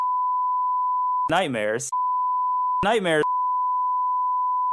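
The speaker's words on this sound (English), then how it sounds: "maybe I'll just put in a long beep noise" A steady, continuous censor beep tone sounds throughout, loud and unbroken, briefly overlaid twice by a speaking voice.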